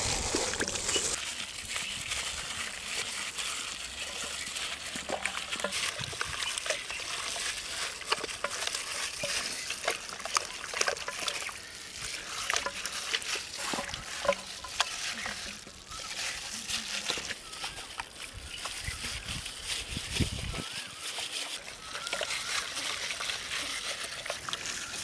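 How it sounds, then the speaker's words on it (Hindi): Chicken being mixed by hand in a lemon-juice marinade for biryani gives a continuous wet squelching and stirring, close and fairly loud, with splashy bursts throughout and a brief pause near the end. "मैरिनेशन परफेक्ट होने के लिए अच्छी तरह मिक्स करेंगे।"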